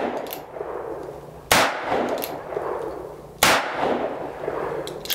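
Two loud, close revolver shots from a Cimarron 1875 Remington Outlaw, spaced about two seconds apart, each with a sharp crack and short ring against steel targets over outdoor background noise.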